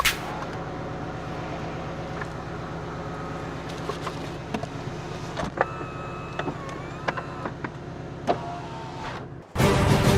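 The convertible roof of a mid-engine Porsche closes with a steady electric motor hum and faint mechanical clicks for about nine seconds. A louder, brief rush of sound follows at the end.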